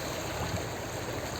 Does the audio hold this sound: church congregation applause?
no